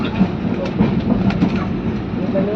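A suburban train bound for Ambattur, Avadi and Perambur runs on an adjacent track near Chennai, heard from a slow-moving train as a steady, fairly loud rumble with faint wheel clatter and no talk.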